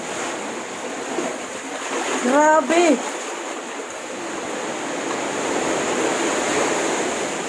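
Raging sea waves roar and wash in a steady, broad rumble, with a person's brief exclamation rising over the surf.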